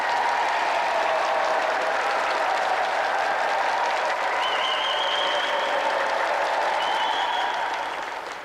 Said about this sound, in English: And let's have another round of applause for tonight's contestant, Richard Sylvester.